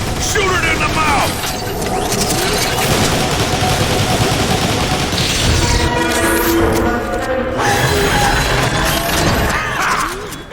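Sustained rapid gunfire with mechanical clatter from a boss fight in Transformers: War for Cybertron, loud and dense throughout, with voices and effects layered beneath.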